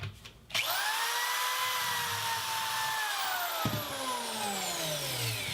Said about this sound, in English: Pre-drill.